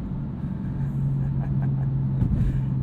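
Tuned 530 hp 2015 BMW M4 with dual-clutch gearbox and Nostrum Performance upgrades, heard from inside as a steady, loud engine drone with road rumble that swells slightly toward the end.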